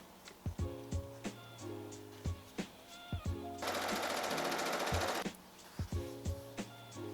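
A sewing machine stitches a hem along a shirt edge, a steady rapid whir lasting about a second and a half, set between spoken phrases nearby.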